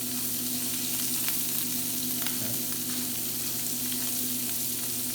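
Scallops searing in a hot pan give a steady, loud sizzle and frying crackle that holds without a break, with no voices over it.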